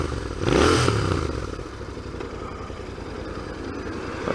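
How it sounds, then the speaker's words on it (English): A 2019 Royal Enfield Interceptor motorcycle engine revs briefly, then settles into a steady, rumbling idle with some faint mechanical clatter, heard up close. "It sounds like a proper engine."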